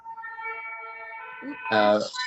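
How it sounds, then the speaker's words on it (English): An ambulance siren wails in the background under a person speaking nearby, its pitch wavering, with a louder burst of voice near the end. "Is there an ambulance inside your house?"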